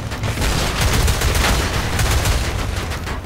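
Rapid gunfire from Battlefield Play4Free fills the scene, a continuous dense rattle of shots with no pauses and no voices.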